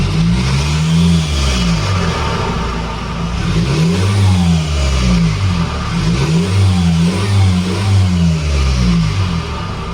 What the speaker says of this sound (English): When you rev the car, you can actually hear the air being sucked.